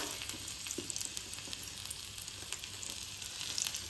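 Garlic cloves fry in refined oil in a small ladle, giving a soft, steady sizzle with faint crackles close by and no talking.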